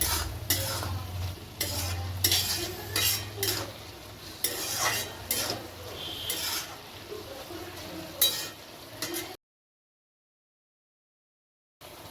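Mung dal with safflower greens cooking in a pan, with steady close sizzling and repeated spoon stirring and scraping against the pan for about nine seconds, then sudden silence before a faint return at the very end.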